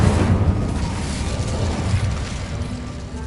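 The Incendio fire spell in Hogwarts Legacy is cast, giving a loud, rushing burst of flame that swells at once and slowly fades over a few seconds, with no voices.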